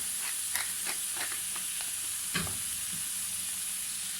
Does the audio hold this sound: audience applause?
no